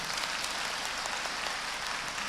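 An audience at a religious talk in Jakarta breaks into applause: dense, even clapping that holds steady and fills the whole stretch without a pause.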